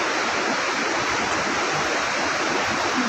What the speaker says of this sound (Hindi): देखिए उनका तेज प्रवाह, कलकल की आवाज़ यहाँ तक भी सुनाई दे रही है।